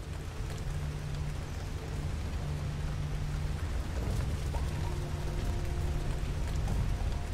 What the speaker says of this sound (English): It's too loud. Too much rain.